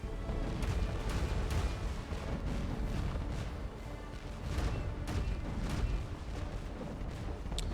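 Heavy booming ship cannon fire in the video game The Legend of Pirates Online rolls on in repeated blasts, deep and rumbling, with sharper reports layered over a continuous low roar.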